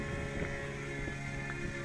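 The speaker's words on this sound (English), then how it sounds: "it turns to a different frame and takes a photo on each frame" A Potensic Atom 2 drone camera gimbal turns between frames while shooting a panorama, giving faint, close mechanical whirring and ratcheting clicks over a steady motor hum.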